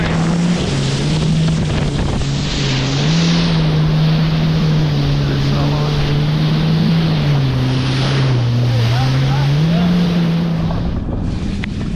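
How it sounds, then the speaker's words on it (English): A motorboat runs steadily through breaking ocean waves, its loud, continuous engine drone sitting under heavy wash, wind buffeting and surf noise for the entire stretch. "we're on our way, and there's waves breaking"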